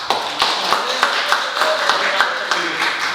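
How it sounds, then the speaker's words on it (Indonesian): Scattered hand claps from a talk show audience, a few people clapping sparsely with a soft murmur of voices underneath. "Oh iya, tepuk tangan."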